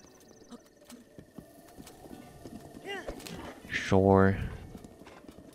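A horse's hooves clip-clop in Breath of the Wild, quick rhythmic footfalls rising to a loud close burst near the end, with a brief spoken word over them.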